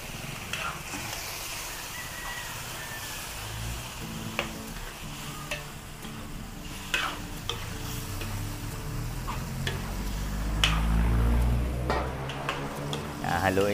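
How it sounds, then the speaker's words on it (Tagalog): Marinated chicken fries in a pan with tomato sauce and is stirred, giving a continuous close sizzle broken by repeated scrapes and clinks of the spoon against the pan. "At ilalagay po natin dyan yung ating minarinated na manok."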